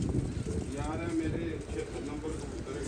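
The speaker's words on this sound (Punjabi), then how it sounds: "76 ਨੰਬਰ ਕਬੂਤਰ ਹੈਗੇ ਨੇ ਬੜੇ" Pigeons coo repeatedly at a pigeon loft, the low rounded calls rising under steady chatter from people talking nearby throughout.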